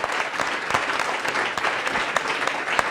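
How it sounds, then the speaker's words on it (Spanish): An audience applauds a panel at a photography conference, dense continuous clapping filling the hall evenly from start to finish with no voices over it. "Empiezo por pedir un aplauso para esta maravillosa mesa."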